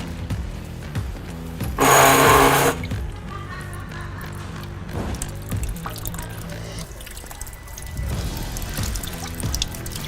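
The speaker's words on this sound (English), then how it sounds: "probably a little bit of fuel that trickles out here" Fuel runs out of a disconnected fuel tank line on a 2019-22 Mercedes Sprinter van: a brief rushing gush, then scattered drips and small splashes with light metallic handling noises.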